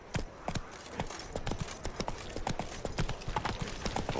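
Hooves from Roach, a horse in The Witcher video game, keep up a steady clip-clop at a walking pace with faint ambient sound underneath.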